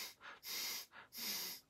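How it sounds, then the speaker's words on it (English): Forceful piston breathing, short sharp exhales pushed out through the nose in a quick run of about four puffs, close and fairly soft, with no talking. "you literally just breathe out through your nose"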